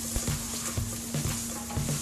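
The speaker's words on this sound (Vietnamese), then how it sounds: "Rồi mình phi thơm phần hành tỏi này." Shallots and garlic fry in a pan, a steady quiet sizzle broken by soft rhythmic scrapes of stirring about every half second, with no voices.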